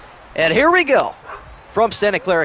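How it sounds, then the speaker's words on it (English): Dogs bark and yip in short bursts close by, interrupting a man's sports-style commentary and overlapping his voice. "Pardon the barking dogs."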